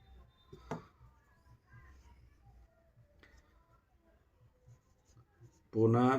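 Pen scratches on paper while a maths solution is written out, short irregular strokes and soft taps, faint and close, with someone speaking at intervals.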